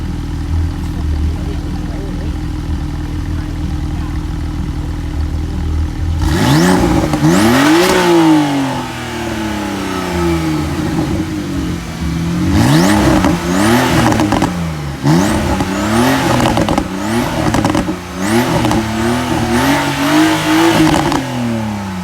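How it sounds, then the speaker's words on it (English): Porsche 911 turbo engine at a classic and performance car show, idling, then revved in repeated loud rising and falling bursts with whooshing turbo, close by, with short idle gaps between blips. "who wants to hear a Porsche 911 being revved up and hearing the turbo?"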